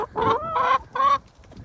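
Backyard hens clucking close by, three distinct throaty clucks in quick succession, with a quieter murmur trailing off at the end.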